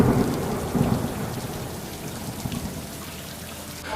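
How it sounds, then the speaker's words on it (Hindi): Steady light rain patters on surfaces under dark clouds, while low rolls of thunder rumble through the whole stretch without any talk. "आसमान में घिरे काले बादलों के बीच एक बार फिर हल्की हल्की बारिश शुरू हो गई"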